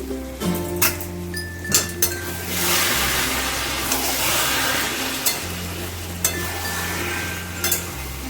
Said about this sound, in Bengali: আবারও প্রায় চার পাঁচ মিনিট পর আমি ঢাকাটা খুলছি